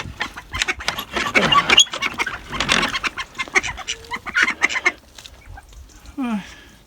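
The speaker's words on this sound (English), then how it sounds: "I'm just chasing the ducks for the sake of it now" Farm ducks quack in loud rapid bursts while being chased, an agitated clamour of several birds at close range with brief pauses, ending in a single honk.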